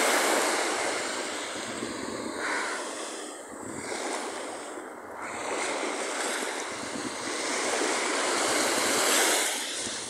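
Mediterranean sea waves wash up the shore over sandals, a continuous loud rushing surge that swells and recedes, mixed with strong wind buffeting the microphone.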